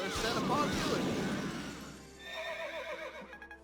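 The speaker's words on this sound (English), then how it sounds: "Horse." A horse neighs in the Fire Emblem Awakening video game, a loud, close whinny with a falling pitch, mixed with game sound effects and clashing noises.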